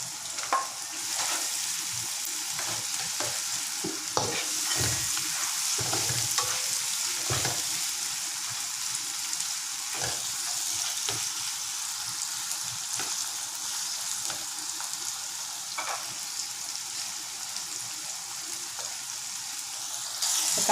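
Chicken fries and gets stirred in a pan for fried rice vermicelli (bihun), making a continuous bright sizzle broken by repeated scraping and clattering stir strokes across the whole stretch, fairly close and loud.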